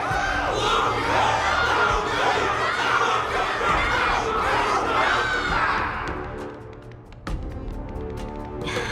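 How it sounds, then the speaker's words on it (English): A large crowd in the video game Honkai: Star Rail roars and shouts in a sustained wave of cheering that fades out, followed by scattered sharp clicks and a low hum. "Can't you hear? Everyone's cheering for you, Luca!"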